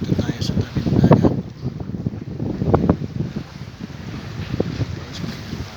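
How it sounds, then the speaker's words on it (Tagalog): Wind gusts buffet the microphone at a calm seashore, a steady rumbling roar over soft water, with a person talking intermittently throughout. "Guys, may hangin."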